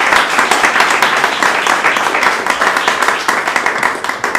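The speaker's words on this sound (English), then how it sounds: "Round of applause for our milk." Steady, dense applause from the audience at a live vegetarian cooking demonstration, loud and continuous for the whole stretch with no voices over it.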